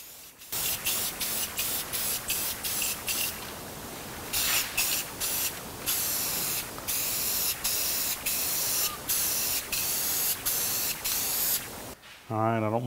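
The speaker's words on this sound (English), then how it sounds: "I'm using a gloss black on these, and we'll just come in here and give them a good coat of paint." Rust-Oleum gloss black enamel paint sprays onto machinery tags in short, repeated hissing bursts, loud and close, with brief pauses between passes.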